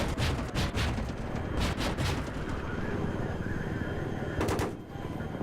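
Bursts of rapid machine gun fire in Battlefield 3, loud sharp rattles in several volleys with heavy rumbling noise between them.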